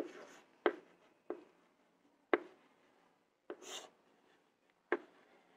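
A marker or chalk writes on a board in a quiet room, giving a handful of short, faint scratching strokes spaced irregularly.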